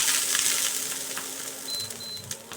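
Water splashed onto a hot, oiled griddle gives a bright, close sizzling hiss that slowly fades, along with a few small clinks and a faint scraping sound.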